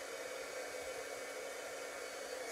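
A heat gun drying a paper craft card gives a steady, even blowing hiss, close and unbroken, with no talk over it.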